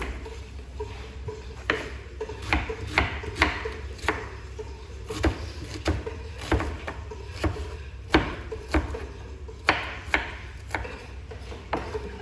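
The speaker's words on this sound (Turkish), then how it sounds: "Soğanlarını doğruyor." Steady rapid knife chopping of onions on a board, a quick uneven rhythm of sharp taps continuing throughout, close by and moderately loud.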